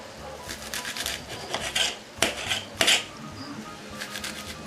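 A knife cuts green onions on a cutting board, giving a few uneven scraping and chopping strokes with two sharper knocks against the board, close and clear with no talk.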